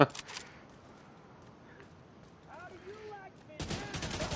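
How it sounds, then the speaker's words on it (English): AK rifle fire in the Division 2 video game: a short burst of shots at the start, then a dense, sustained automatic burst at the end, with a voice talking in the quieter stretch between. "Oh man, this AK is so different."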